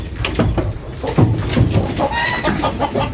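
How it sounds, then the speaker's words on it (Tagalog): Egg-laying hens in an Australian farm barn cluck repeatedly in short, close, uneven bursts, with other fowl calls and faint farm animal sounds in the background. "Ayan mga inahin, yung mga nangingitlog."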